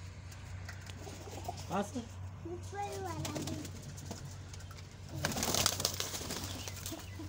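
Pigeons in a pigeon house give soft rolling coos, with a burst of wing flapping near the end; people talk quietly in the background throughout.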